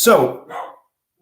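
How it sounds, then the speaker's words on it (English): A dog barks once nearby, a sharp bark with a brief trailing yelp. Someone says a single word just before it. "Sorry about the dog in the background."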